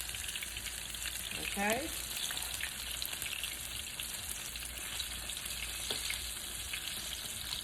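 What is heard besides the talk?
Jamaican fritters frying in oil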